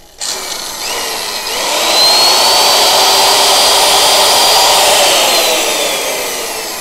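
Makita 660W, 100V electric power tool working wood, a loud high whine that spins up quickly and holds steady for several seconds before easing slightly, heard alone and close.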